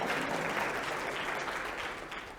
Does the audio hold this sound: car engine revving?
no